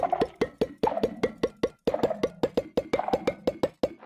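A rapid series of short plopping pops from a Minecraft item filling, evenly spaced, repeats in quick succession with a pitch that climbs over the run.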